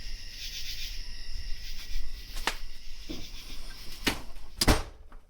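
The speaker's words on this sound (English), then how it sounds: "You can hear all the katydids and stuff." Katydids and insects chirp in a steady shrill drone outside a house at night, heard by the back door, while a few sharp knocks and clicks of the door ring out over it.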